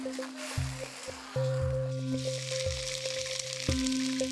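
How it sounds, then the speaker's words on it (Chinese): Fish belly pieces from a sea wolf fish sizzle in oil in a wok, a steady close frying hiss with faint repeated clicks and hums in the background, no voices. "鱼腩切块，下锅煎至两面金黄"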